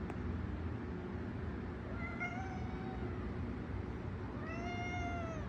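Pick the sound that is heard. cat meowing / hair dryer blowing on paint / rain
cat meowing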